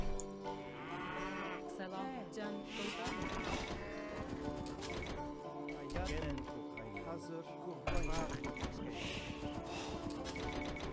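Sheep bleating as game sound effects in Age of Empires 2 Definitive Edition played at high speed, repeated animal calls among busy game music and effects, with someone talking in German over them.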